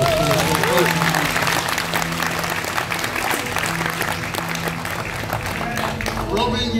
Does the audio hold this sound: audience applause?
yes